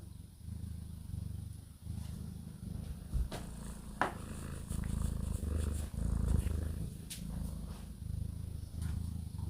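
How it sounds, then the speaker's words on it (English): A domestic cat purrs in a steady, close, low rumbling stream for the whole stretch, with a few faint clicks and rustles over it and no talking. "she always purrs when she gets the chance."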